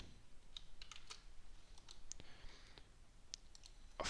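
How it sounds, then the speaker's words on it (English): Quiet, close typing on a computer keyboard, with irregular light key clicks spread across a few seconds and no voice heard. "then we type in the brackets, then we type in"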